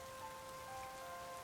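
Rain falls steadily in the video game Pokémon Legends Z-A, a faint, even hiss of drops on a surface with a soft tonal hum underneath.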